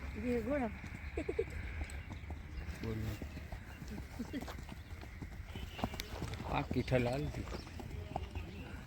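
Hoofbeats of a Kutchi Sindhi mare during an endurance race in Kutch, a soft clip-clop rhythm heard mostly beneath people talking and calling out throughout.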